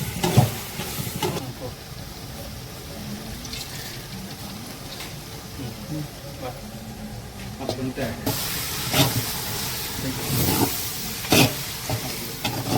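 Biryani cooking in a pot in a village home, with soft stirring scrapes and a gentle sizzle of frying running steadily underneath, broken by a few sharper clinks and louder bursts later on.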